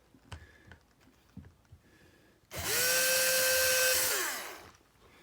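A power drill boring through a rail while a Keeni top is being installed: a few quiet knocks and handling sounds, then the drill whines up loudly for about two seconds at steady pitch and winds down.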